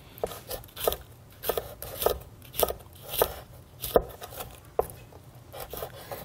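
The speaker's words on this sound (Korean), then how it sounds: "가늘지 않아도 되고 편안하게 그냥 채 썰어 주시면 돼요." Knife julienning onion on a cutting board for young radish kimchi: a steady series of crisp chops, close and moderately loud, no voices.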